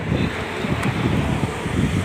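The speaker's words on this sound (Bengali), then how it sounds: "কত হাওয়া দিচ্ছে বলো তো, ফুরফুর করে" Seaside wind blowing steadily into the microphone, a loud continuous rushing buffet with no voices.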